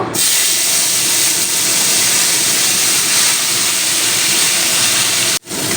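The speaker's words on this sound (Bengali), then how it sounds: "এবার দিয়ে দেবো আমি কাঁকড়াগুলো ভেজে নেব" Crabs frying in hot oil seasoned with salt and turmeric give a loud, steady hiss that runs unbroken almost the whole time, then cuts off sharply just before the end with no one talking.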